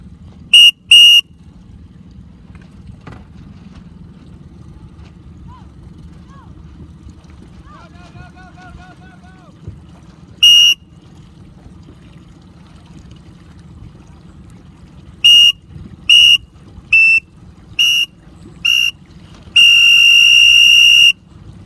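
Short, sharp coaching whistle blasts ring out across the water at a 29er sailing clinic in Turkey: two quick bursts, a lone one, then a run of five and a final long blast, all over a steady low rumble of wind and engine.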